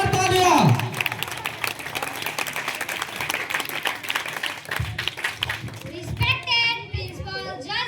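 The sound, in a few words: audience applause for a child debater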